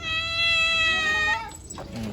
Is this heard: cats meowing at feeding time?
yes